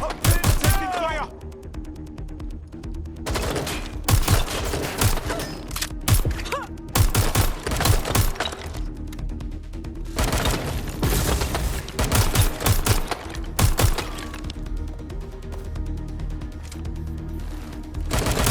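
Sustained gunfire in the video game Watch Dogs: Legion, with dense rapid automatic bursts and single shots continuing throughout, loud and close, with brief lulls between volleys.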